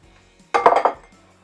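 A short clatter of a utensil against a bowl while mixing sugar into bread dough ingredients, a few quick clinks in a quiet kitchen.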